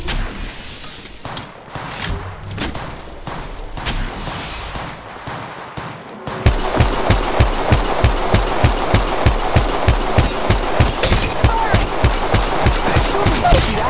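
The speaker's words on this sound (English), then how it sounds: "Firing! Shooting!" Rapid automatic gunfire in the mobile battle royale Apex Legends Mobile: scattered shots and blasts at first, then a loud, steady stream of evenly spaced rounds through the second half.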